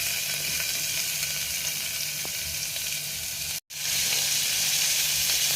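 Chopped onions with fennel seeds sauté in a pan for a broccoli side dish, giving an even, hissing sizzle with faint stirring and a brief dropout near the end. No one speaks.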